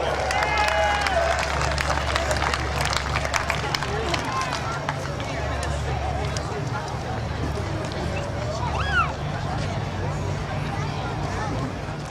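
A crowd claps and cheers for the winning driver at a Midvale Speedway race, sustained applause with crowd babble and a loud announcer voice over it.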